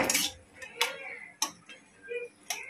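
Spoon knocking and scraping against a cooking pot while stirring jolpai (olive) chutney, a few separate sharp clinks spaced irregularly, close and clear with faint background.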